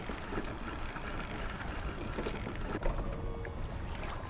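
A fishing boat's engines in the DREDGE video game hold a steady, low droning rumble mixed with a wash of water noise, continuous and fairly even from start to finish.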